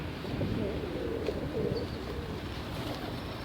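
A domestic pigeon coos nearby, soft low throaty calls repeating under a steady background hum, with no voices.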